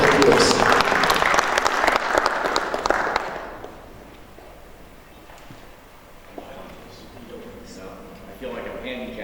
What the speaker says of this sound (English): put our hands together for Dr. Ron Eccles with a round of applause.